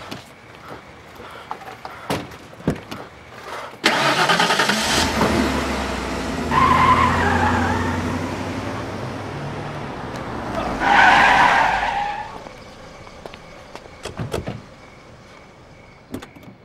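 A car roars off with a loud tire skid rising and fading, followed by a second screech of tires a few seconds later, close and dominant over faint background noise and door-like clunks.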